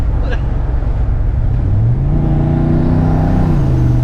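A budget turbocharged truck engine strains under about 13 psi of boost, its droning note climbing steadily with a rising turbo whir, loud and close while occupants talk.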